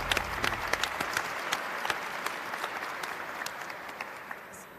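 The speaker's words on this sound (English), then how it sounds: "And clap on that." Audience clapping at a public conversation event, a steady patter of many hands with a few sharper individual claps, moderately distant and fading slightly toward the end.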